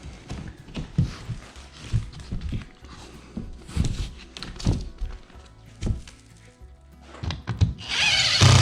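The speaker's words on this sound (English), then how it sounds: "So I'm gonna screw this up into place right here." Power drill driving screws into cement backer board for a wood stove stone installation, with repeated short bursts and thunks close by, ending in a louder sustained run.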